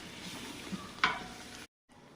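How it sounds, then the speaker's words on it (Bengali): Ground coriander, cumin, salt and chilli powder fry with onion and garlic in a pan, a faint, brief sizzle with one sharp scrape of stirring before the sound cuts out. "ধনে, জিরে, লবণ, ঝালের গুঁড়া, সমস্ত মশলাগুলো এবার সুন্দর করে ভেজে নেব।"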